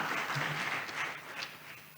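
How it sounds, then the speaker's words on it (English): A crowd at a public forum gives a round of applause, a steady, fairly soft wash of many hands clapping at once that continues throughout without any voices. "I'd like us all to give them a round of applause"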